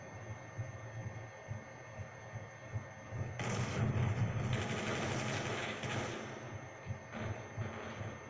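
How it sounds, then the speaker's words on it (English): Gunfire in the multiplayer video game Call of Duty Black Ops II, a sustained burst of rapid shots over a steady background hum, loudest in the middle of the stretch and tapering off toward the end. "I literally just shot a bullet at them."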